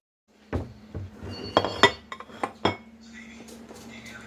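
A knife and pie server clink and scrape against a dish while a slice of zucchini mock apple pie is cut. There are about seven sharp, close metallic taps spread across a few seconds.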